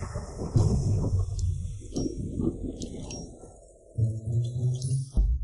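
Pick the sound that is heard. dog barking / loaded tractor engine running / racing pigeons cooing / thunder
thunder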